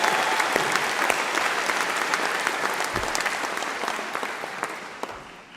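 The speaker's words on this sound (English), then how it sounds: "Big round of applause for Claudia, please" Applause from an audience at an awards ceremony for a university faculty of health, education and life sciences, a dense, steady clapping that carries on for several seconds and slowly thins toward the end.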